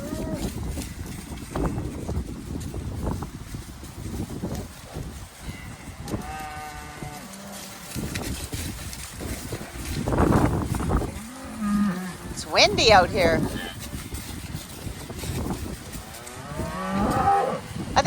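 Cows moo repeatedly in a windy field, several loud calls rising between stretches of wind noise and footsteps, with a person briefly speaking nearby.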